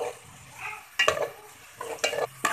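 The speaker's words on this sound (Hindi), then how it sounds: "अब हमारी प्याज थोड़ी गोल्डन ब्राउन हो रही है।" Onions frying to golden brown in a pan for chicken biryani, soft sizzling broken by several short bursts of stirring and scraping, close and fairly quiet with no voices.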